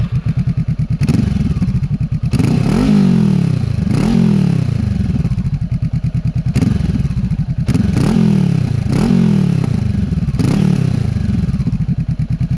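A Honda CB500F motorcycle with its exhaust baffles removed revs hard and loud at close range, several sharp throttle blips rising and falling in a repeating rhythm over a rumbling idle.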